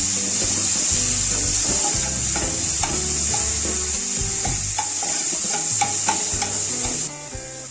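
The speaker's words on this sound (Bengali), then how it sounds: "এরপর আমি টমেটো আর গাজর ছোট ছোট করে কেটে নিয়েছি, ওটা দেবো, একটু ভেজে নেব।" Small pieces of chopped tomato and carrot fry with onion in a pan for masala pulao: continuous close sizzling with scraping stirs, under faint tonal background sounds.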